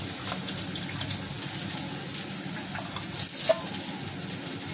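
Onions for a prawn curry fry in a pan, giving a steady, fairly loud sizzle with occasional stirring scrapes and no talking.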